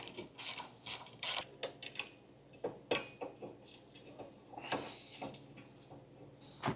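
A ratchet clicking in quick bursts as an 18 mm coarse-thread nut with lock and flat washers is run onto a trailer hitch bolt on a 2005–2010 Honda Odyssey, close and crisp with pauses between strokes.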